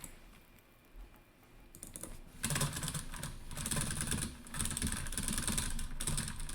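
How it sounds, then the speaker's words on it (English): Rapid, dense clicking and clacking on a computer keyboard and mouse builds from quieter taps into a loud, continuous burst of fast keystrokes, close and unbroken. "I'm literally just clicking to my maximum capacity right now"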